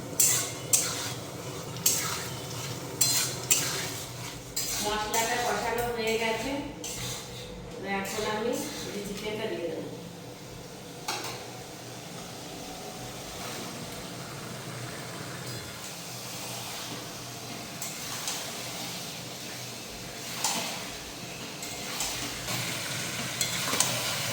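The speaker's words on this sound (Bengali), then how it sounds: "সেটা দিয়ে দিচ্ছি মশলাটা দেওয়ার পর পাঁচ মিনিটের মতো একটু ভালো করে কষিয়ে নেব" Spice paste of ginger, cumin, turmeric and chili being sautéed and stirred in a pan, with soft sizzling, spatula scrapes and clinks of cookware going on steadily while someone talks over it.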